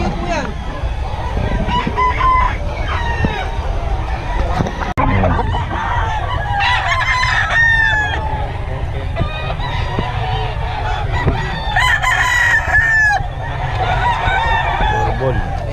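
Roosters and chickens at a poultry market in Bocaue crow repeatedly and cluck close by, overlapping one another, with people talking in the background.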